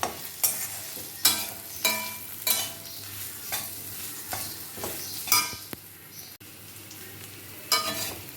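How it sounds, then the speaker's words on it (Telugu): Raw banana pieces frying in shallow oil give a low, steady sizzle punctuated by repeated sharp scraping stirs of a spatula against the pan, roughly every half second to second, close and clear. "అరటికాయ ముక్కలు ఫ్రై అవుతున్నాయి"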